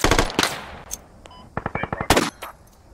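Gunfire in the tactical shooter Squad during an insurgent defense match, rapid close bursts of automatic fire followed by a quick string of shots and a final loud volley.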